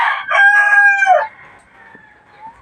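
A young rooster crows in a backyard, a single loud, close cock-a-doodle-doo lasting about a second that cracks at the end, followed by faint trailing calls.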